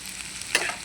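Asafoetida and turmeric dropped into hot oil as a tempering for a green chilli and tomato chutney, giving a quiet, brief hiss and crackle with a short stirring scrape in the middle.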